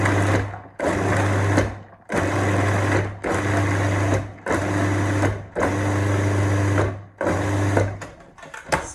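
Large food processor pulsing cauliflower florets into rice: about eight loud, close motor bursts of roughly a second each with a steady whirring hum, separated by brief pauses, with no talking.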